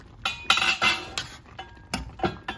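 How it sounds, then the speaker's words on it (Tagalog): Metal utensil scraping and clinking against a cooking pot of dinengdeng vegetable stew in several bursts, close by, with no voices. "So, haluin na natin."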